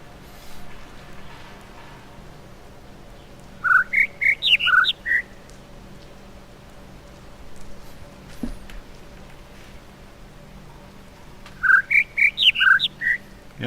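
Birds in the video game The Witness chirp in two short bursts of bright, rapid twittering notes, separated by several seconds of quiet ambient hum, fairly close and clear with no talking.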